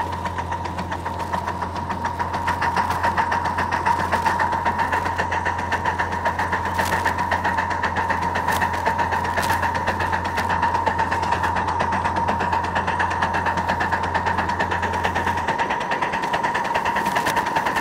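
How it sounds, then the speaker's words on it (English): An air compressor on a live steam mini train runs with a steady, loud mechanical hum and fast rhythmic chugging, a low drone dropping out near the end while the rattle keeps going. "air compressor didn't run long"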